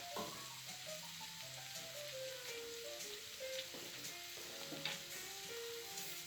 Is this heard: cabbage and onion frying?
yes